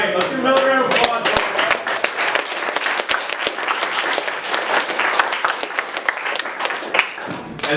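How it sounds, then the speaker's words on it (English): A room of people at a club's general meeting applauds in a lively round of clapping with scattered distinct claps, whoops and voices mixed in, sustained throughout. "let's do another round of applause"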